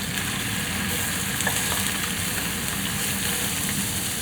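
Salmon pieces for a teriyaki salmon veggie stir fry frying in a pan, giving a steady, close, continuous sizzle with no talking.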